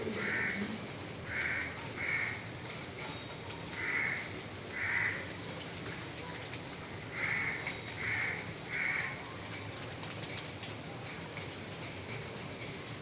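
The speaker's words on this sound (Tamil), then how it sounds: "அந்த காக்கா கத்திக்கிட்டே தான் இருக்கும்" A crow caws repeatedly in short bursts of two or three calls, somewhat distant, over a steady hiss of rain.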